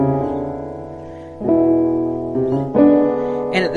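A piano plays a short passing run rising from B up to D in a gospel-style arrangement, with sustained chords where each new note enters distinctly and rings out, close and clear, with no voice.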